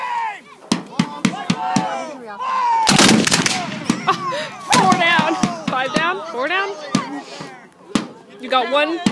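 Guns at a Civil War battle reenactment fire in a string of loud sharp cracks and booms, some spaced apart and one heavy burst near the middle. Voices talk and call out close by between the shots.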